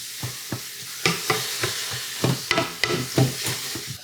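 Sloppy joe ground meat sautés with salt and pepper in a Ninja Foodi Possible Cooker Pro, with a steady sizzle broken by repeated scraping stirs of the spatula at close range, and no talking.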